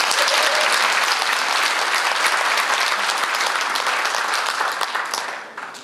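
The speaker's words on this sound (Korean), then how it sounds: "박수 한번 부탁드리겠습니다" Audience at a 2015 nationwide challenger seminar in Korea breaks into dense, sustained applause, loud and steady throughout before tapering off at the very end.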